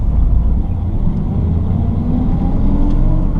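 A 1951 Ford Deluxe Tudor two-door sedan rolls along slowly while being parked, its engine a steady low rumble heard from inside the car, with no voices over it.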